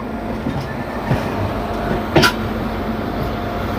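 Train rolling into platform 6 at Puri station, a steady close rumble of wheels on track with soft clicks and a brief metallic squeal partway through, no talk.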